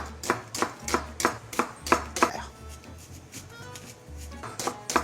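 Knife chopping an onion on a cutting board, a steady run of sharp, close rhythmic thuds about every quarter second, pausing briefly midway before resuming, with faint kitchen clatter between strokes.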